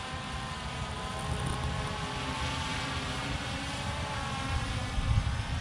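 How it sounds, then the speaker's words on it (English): A Holystone 720e quadcopter drone hovers and flies over a park, giving off a continuous whirring, buzzing motor drone that stays steady and fairly loud throughout, with no talking. "So let me bring the drone down."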